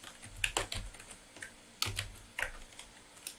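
A short command typed on a computer keyboard, with close, crisp key clicks in small irregular clusters, a couple of heavier thumps like the space or enter key, and quiet gaps between, no voice present.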